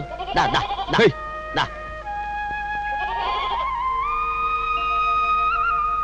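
Goats bleat in a few quick, wavering calls close by at the start, after which a steady sustained tone holds under the remaining seconds.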